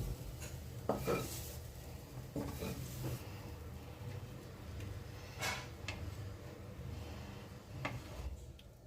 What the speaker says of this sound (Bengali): কড়াই থেকে পুরটা নামিয়ে নিচ্ছি